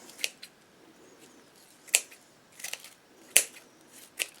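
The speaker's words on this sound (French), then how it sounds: "Je coupe tout l'excédent." Scissors snip off excess material from a scented bath bomb mold, making a handful of soft, crisp clicks at an uneven pace over faint background hiss.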